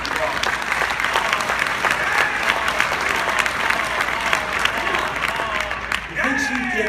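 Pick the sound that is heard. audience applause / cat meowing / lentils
audience applause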